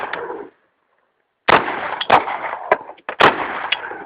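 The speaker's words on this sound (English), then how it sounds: "Shooting the HK." Gunshots from an HK gun at an outdoor shooting range: one burst fades out, then after a short silence several sharp, loud reports crack at irregular intervals, close by.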